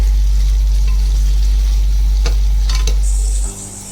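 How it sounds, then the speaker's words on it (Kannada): Onions sautéing slowly in oil in a pan give a steady close sizzle over a heavy low rumble, with a few brief scraping stirs, before the sound drops away near the end. "ಹೀಗೆ ಸ್ಲೋ ಆಗಿ ಬಾಡಿಸ್ಕೊಂಡು ಈರುಳ್ಳಿ ಒಂಚೂರು ಫ್ರೈ ಆದಂಗಾದರೆ"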